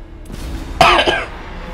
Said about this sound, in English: Sorry about coughing at you there, guys, by the way.